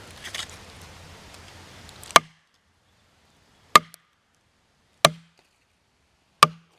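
Faint rustling at first, then four sharp, loud axe strikes on wood, spaced a second or more apart, each ringing briefly in a quiet outdoor space.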